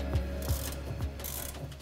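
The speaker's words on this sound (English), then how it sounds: "The last thing you need to tighten down is the U-bolt." A hand ratchet clicks in a few short, evenly spaced strokes while tightening the U-bolt on an Air Lift LoadLifter 5000 air spring kit fitted to a Dodge Ram pickup, steady close workshop hum underneath.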